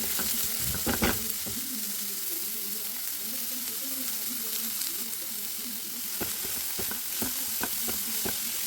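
Onions sauté with pink salt in a pan for Maalaan fish curry masala, hissing in a steady close sizzle broken by a few sharp scrapes and clacks of stirring.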